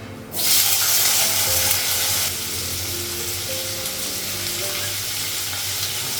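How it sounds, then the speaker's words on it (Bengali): Potatoes dropped into a wok of hot oil with dried red chilli, nigella seeds and whole cumin burst into a loud, close sizzle that holds steady, then settles a little quieter into a continuous frying crackle, with no speech. "কড়াইয়ের মধ্যে হচ্ছে শুকনো লঙ্কা লাগালাম, কালো জিরে, গোটা জিরে লাগিয়েছি, আলুটা লাগালাম"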